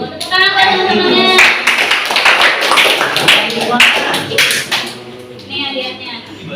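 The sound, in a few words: classroom students clapping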